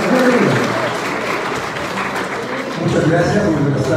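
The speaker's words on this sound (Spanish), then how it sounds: "recibimos con un fuerte aplauso" An event audience at the Flisol 2022 free-software festival in Ecuador bursts into loud, sustained applause that fills the room, dips slightly midway, then swells again, with voices mixed in among the clapping.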